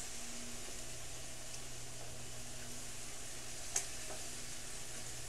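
Shakshuka ingredients, tomato sauce and vegetables, sizzling steadily in a pan as they are tossed, a constant close hiss of frying with a faint clink of a utensil partway through, no voices.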